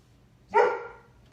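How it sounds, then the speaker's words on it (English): One short dog bark, moderately loud and fairly close, with quiet background before and after. "Stop barking, you goofball."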